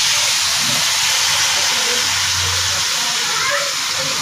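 Loud, steady hiss and sizzle as water goes into a hot pot of chicken korma being cooked, a broad continuous rush that fades slightly toward the end, with faint low background sounds beneath.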